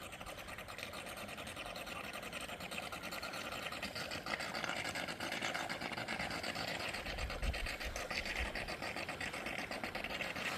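Water pump pulling from a nearly drained corral runs steadily and starts sucking air, giving a continuous rattling, buzzing drone at moderate distance with no letup.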